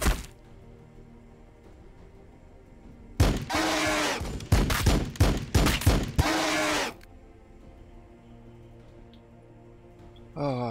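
Bursts of gunfire in the Warhammer 40,000: Battlesector video game: a loud clustered volley of shots and impacts lasting a few seconds, with quieter game ambience before and after and a brief return of loud fire at the very end.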